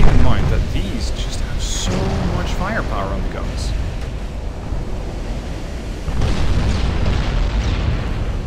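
Battleship guns fire with explosions in the naval warfare game Ultimate Admiral: Dreadnoughts, a heavy booming rumble with a strong burst at the start and another swell later, under a voice talking.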